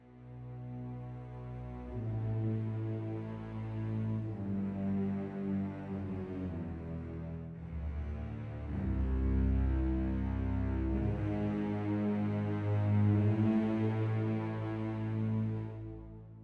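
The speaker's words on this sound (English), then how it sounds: "and our low strings will sound like this." Cellos and double basses from the Synchron Prime sample library play deep, sustained low notes that shift between chords in a slow, swelling phrase; fairly quiet and full, no talking.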